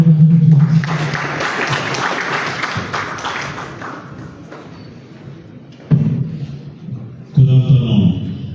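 Audience at a government strategic plan launch ceremony applauds in a loud sustained wash of clapping, with a voice over a microphone at the start and thuds and renewed bursts toward the end.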